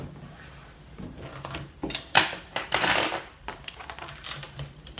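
A Brother ScanNCut cutting machine unloads its cutting mat, giving a series of mechanical clicks, clacks and short whirring bursts, fairly close and irregular, with no talking.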